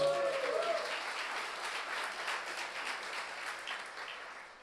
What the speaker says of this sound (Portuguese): Um aplauso para Jesus.